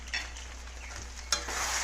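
Sabudana tapioca pearls frying in ghee in a pan, giving a soft steady sizzle with occasional stirring scrapes and one sharp clink of a utensil against the pan near the end.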